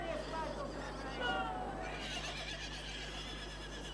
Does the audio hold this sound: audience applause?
no